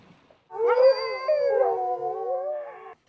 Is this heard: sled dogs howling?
yes